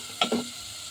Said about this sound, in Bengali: রসুন অনেকক্ষণ বাড়তে হবে তেলের মধ্যে যতক্ষণ না সুন্দর গ্রান বের হবে ততক্ষণ বাড়তে হবে